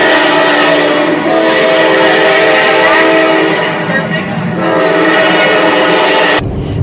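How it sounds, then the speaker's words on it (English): A train horn blares in long sustained blasts over the loud rumble of a passing train, cutting off abruptly near the end. "the train came roaring by, bringing with it the haunting echo of a train whistle."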